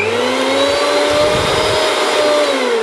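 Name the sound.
Preethi Crown mixer grinder running with small jar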